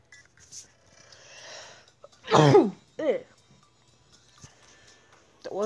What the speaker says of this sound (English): That was a sneeze, in case you're curious.